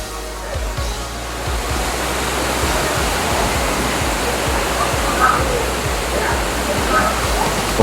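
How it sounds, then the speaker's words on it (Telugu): Monkey Falls waterfall in Ooty pours with a loud, steady, broadband roar of falling water that fills the whole stretch without pause, close by and constant. "పాలనురగలాగా కిందికి కారుతున్న ఈ జలపాతాన్ని చూడండి ఒకసారి."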